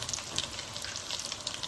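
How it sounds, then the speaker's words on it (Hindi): Chicken vegetable nuggets shallow-frying on low heat, with a steady, fairly quiet crackling sizzle and small pops, heard close and alone without speech. "ये मैं बिल्कुल धीमी आंच पे फ्राई कर रही हूँ इनको"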